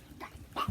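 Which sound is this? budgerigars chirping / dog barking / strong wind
dog barking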